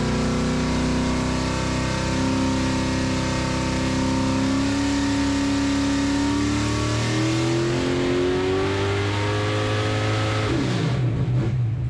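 A naturally aspirated 1000 HP 565 cubic inch big block racing engine revs hard and loud, a rising, rumbling roar with strong harmonics that climbs and falls and then cuts off near the end.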